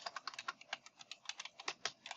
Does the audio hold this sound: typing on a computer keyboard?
yes